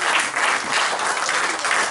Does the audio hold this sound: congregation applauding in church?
yes